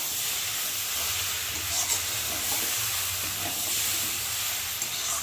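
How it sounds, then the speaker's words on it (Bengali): Malabar spinach cooks with shrimp in a pan while being stirred, giving a steady soft sizzle and hiss with faint scraping and shuffling. It is quiet and continuous, with no speech. "ভালো করে নেড়ে"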